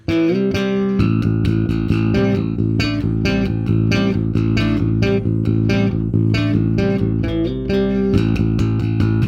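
Bass guitar plays a steady line of fingerpicked notes with a strong, continuous low end, recorded close and clear, with no voices.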